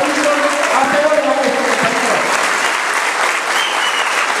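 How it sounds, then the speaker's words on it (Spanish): A large crowd at an election winners' proclamation event applauds loudly and continuously, a thick wash of clapping mixed with cheering and indistinct voices throughout. "Un fuerte aplauso para los 19 compañeros"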